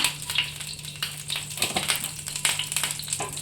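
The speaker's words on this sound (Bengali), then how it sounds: "এখানে আমি একটু কালো জিরে দিব ফোড়নের জন্য।" Black cumin seeds sizzling in a small spoonful of hot oil for tempering a ridge gourd dish, a steady close crackle with scattered sharp pops throughout, no talking.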